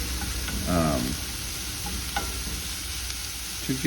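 Onions and garlic sauté in a pan, a continuous close sizzle broken by a few utensil scrapes and clinks, with faint voice-like tones in the background.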